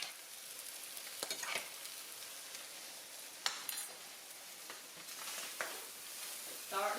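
Corn roasting in a home kitchen pan gives a faint, steady frying sizzle with scattered crackles and pops, plus a few scrapes of stirring.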